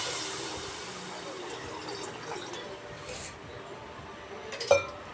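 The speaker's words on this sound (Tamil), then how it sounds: "இப்போ நான் தண்ணி ஆட் பண்ணிக்கிறேன்" Water splashes and pours steadily into a metal pot of prawn curry (iral kuzhambu), with a faint broadband rush, a brief clink near the end, and no talking.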